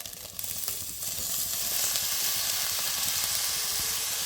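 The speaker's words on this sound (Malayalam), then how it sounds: "വേവിച്ച് വെച്ച ചീര ഇട്ട് കൊടുക്കാം" Cooked spinach tipped into a hot pan with grated coconut for a Kerala-style spinach and egg thoran, sizzling and frying steadily and loud from close by, with stirring sounds and no talk.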